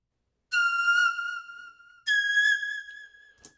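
Two short whistle-like sampled tones played one after another at different pitches, clean and bright, each fading before the next, with a faint click at the end.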